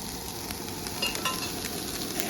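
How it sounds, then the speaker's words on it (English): Steady close sizzling of onions frying in a hot pan over a propane burner, a continuous crackling hiss with small pops. "put the onions so they can just sizzle along"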